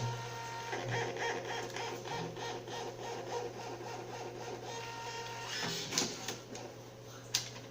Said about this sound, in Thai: โปรแกรมนะฮะ ก็จะทำการปริ้นนะครับ บัตรสลิปนะฮะ ใบผ่านออกมานะพร้อมรูปภาพ